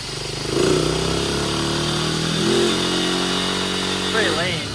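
A Honda XR150 dirt bike engine bored to 222cc idles on a dyno, a close, steady mechanical drone that swells into a few brief revs.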